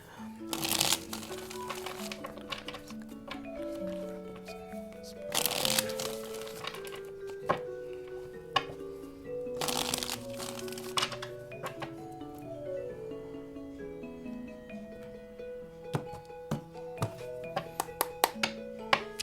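Tarot cards being shuffled and handled during a Pisces reading, with three loud riffle-shuffle bursts at regular intervals followed by lighter taps and card flicks, under soft background music.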